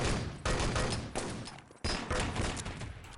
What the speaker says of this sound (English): Nice Luger shooting from Blood